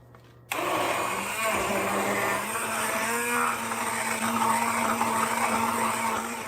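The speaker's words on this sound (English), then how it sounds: "I like the immersion blender because I don't have to take it out of the pot" A motor starts abruptly and keeps whirring at a steady pitch as an immersion blender churns through thick hot applesauce in a pot, close up.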